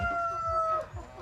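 Hybrid ready-to-lay egg-laying hens cluck nearby in a short burst, with a rooster-like tone ringing through briefly.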